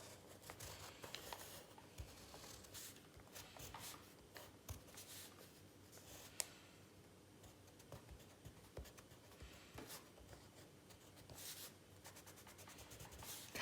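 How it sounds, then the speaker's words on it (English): Crayon or marker rubbing and scratching across paper while colouring in a drawn fish, close and quiet, with steady strokes and soft crinkles throughout and no talk. "Colouring in my fish."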